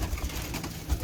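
Teddy pigeons coo in a low, soft series of a few muffled pulses close at hand in a loft setup, with no talking.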